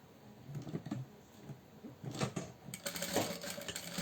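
A sewing machine stitches a fabric organizer basket in short bursts of rapid mechanical whirring, with brief pauses and a busier stretch toward the end, heard up close and fairly quiet.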